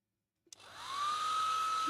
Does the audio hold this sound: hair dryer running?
yes